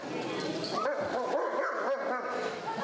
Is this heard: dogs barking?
yes